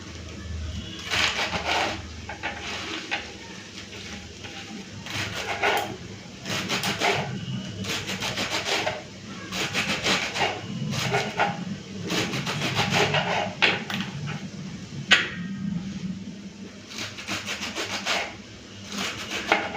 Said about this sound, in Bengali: চলুন ধুয়ে রাখা এখন কলমি শাকটাকে কেটে নেবো